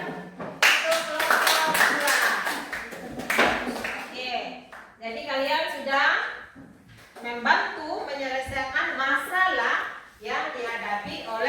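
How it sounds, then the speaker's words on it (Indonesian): A classroom claps for a student group: a burst of many hands clapping near and loud, followed by children and a teacher talking over scattered claps. "Tepuk tangan untuk kelompok 2"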